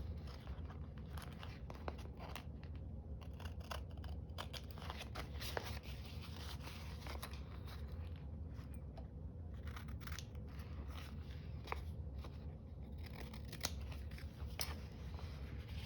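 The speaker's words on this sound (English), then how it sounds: "Let's cut off some of the bits here." Scissors snip washi tape repeatedly at close range, a steady series of small crisp cuts over a low background hum.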